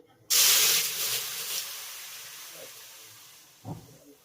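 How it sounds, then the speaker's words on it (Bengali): Water poured into a hot, wide wok on a gas stove while cooking dudh puli, giving a sudden loud hiss of steam that slowly fades, then a brief clatter near the end; no talking. "কড়াইতে দিয়ে দেবো সামান্য একটু জল"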